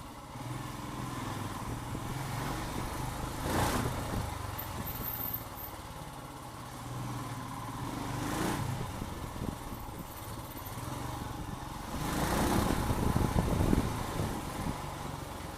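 A Royal Enfield Himalayan motorcycle engine runs steadily in Kathmandu, a moderately loud, continuous rumble with a few brief surges, heard alone without talk.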